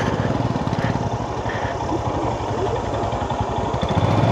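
A motorcycle engine running close by on a mountain road near Tanni Jubbar lake, a steady loud pulsing putter with rough low throb throughout.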